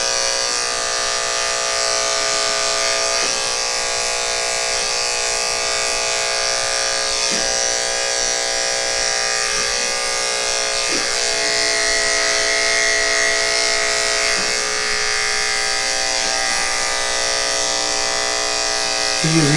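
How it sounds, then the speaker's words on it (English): Electric clippers with a 10 blade shave the belly of a Shih Tzu, giving a loud, steady, high-pitched motor buzz that runs continuously throughout, with only slight dips as the blade moves through the hair. "we're just going to shave the belly area here."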